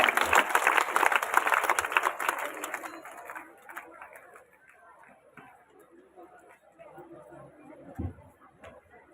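Loud audience clapping at a village yoga event in Kundagol fades after about three seconds into crowd chatter, with a brief low thump near the end.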